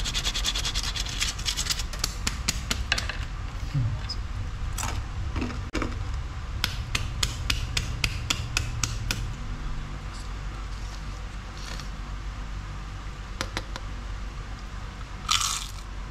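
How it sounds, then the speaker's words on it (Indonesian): Crispy fried tempeh being bitten and chewed up close, giving a run of sharp crunches and crackles, dense at first and then sparser, with a final loud crunch near the end and no talking. "kali ini aku mau bikin tempe crispy yang bener-bener kriuk tuh."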